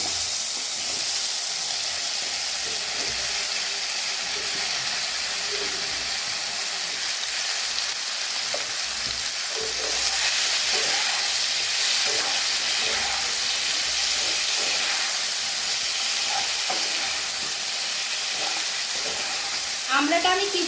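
Crushed hog plums fry in hot ghee, a continuous loud sizzle and hiss with soft stirring scrapes and light spatters throughout.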